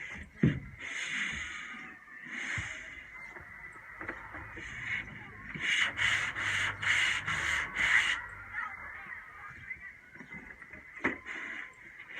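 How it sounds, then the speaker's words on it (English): A corner is sanded by hand before fiberglassing, rough scratchy rubbing in short bursts with a quicker rhythmic run of strokes in the middle, close and moderately loud with scattered knocks. "I'm just going to do a tiny bit more on the corner and see how that sands out."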